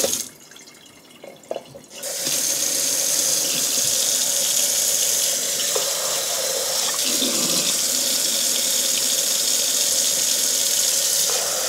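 After a brief quiet start, water runs steadily from a kitchen tap into a measuring container for 2.5 cups, a loud, continuous splashing gush that lasts to the end with no talking.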